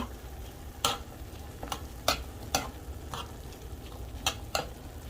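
Half a small chopped onion hits a pan for chicken lettuce wraps, a low soft sizzle broken by several sharp spatula scrapes spaced through the clip.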